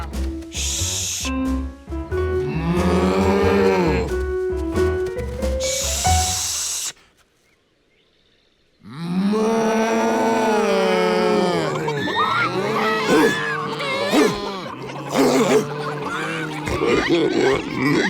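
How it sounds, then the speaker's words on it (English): Cartoon cows lowing in loud, drawn-out moos over background music, with a short silent gap partway through before the mooing resumes. "How could he quiet the cows?"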